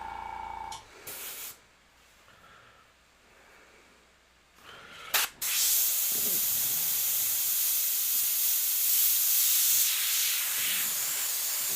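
An airbrush sprays candy paint onto a skull, heard as short bursts of close hissing, then a long, steady spray hiss that runs to the end.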